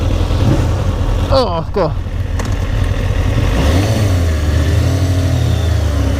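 A Ducati 620 Sport rumbles and revs steadily while being ridden, loud and close, with wind noise and a rider's brief exclamations heard over the engine.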